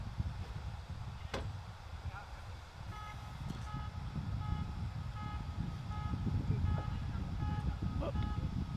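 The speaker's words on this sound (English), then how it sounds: "somebody setting their alarm off" A car alarm at a baseball game sounds faintly in the distance as repeated short electronic beeps, partly buried under crowd noise and an announcer's voice.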